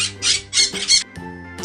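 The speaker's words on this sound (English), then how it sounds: "P for parrot." A parrot gives a series of harsh, raspy squawks in quick bursts, loud and close with brief gaps, then a short trailing call, with no voices over it.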